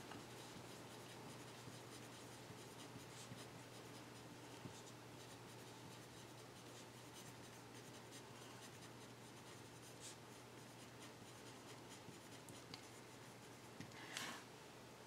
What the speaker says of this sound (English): let me just write a reminder here